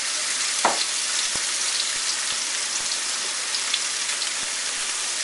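A tablespoon of garlic fries in pooled oil around browned stuffed tofu, making a dense, steady, rain-like sizzle. A few soft clicks and taps of a utensil sound against the pan, and no one speaks.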